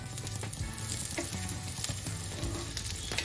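Slices of raw banana (karpo) fry in oil in a Mangalorean kitchen with a dense, continuous sizzle, close and fairly loud, broken by occasional stirring scrapes and crackles. There is no talking.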